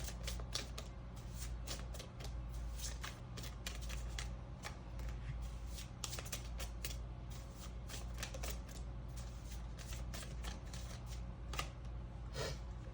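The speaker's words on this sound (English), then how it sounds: "let's get a couple more cards out" Tarot cards are shuffled and drawn in a continuous run of crisp, rapid riffling and flicking taps, close and steady, with no talking.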